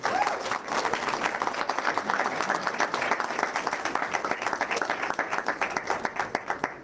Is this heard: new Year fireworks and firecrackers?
no